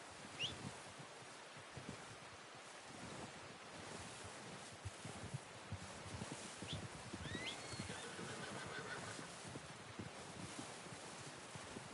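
Horse hooves clip-clop in the video game Red Dead Redemption 2 under steady wind and surf-like ambience. The hoofbeats stay faint and blend into the outdoor background noise.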